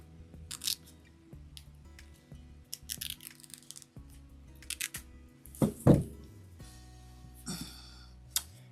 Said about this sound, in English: I'm just going to cut the tag off of this one